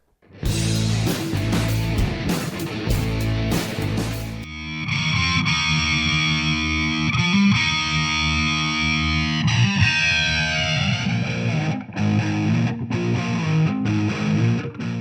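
An electric guitar runs through an MXR EVH Flanger pedal, loud and distorted, opening with sharp chopped chords and then sustaining riffs with a sweeping, whooshing jet-like swirl.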